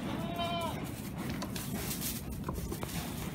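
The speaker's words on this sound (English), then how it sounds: "Here we are with the goats." Goats bleat briefly near the start over steady background noise and shuffling on a farm, with faint chatter nearby.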